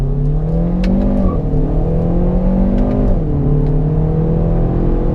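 A 2019 Hyundai Veloster Turbo with an automatic transmission revs up loudly from inside the cabin, pitch climbing through two gear shifts, each marked by a brief drop before rising again.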